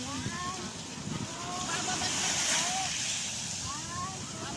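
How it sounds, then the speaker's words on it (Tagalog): Strong ocean waves on a beach during a family outing, a steady loud wash of surf with wind, while people chatter nearby. "Malakas ang alon."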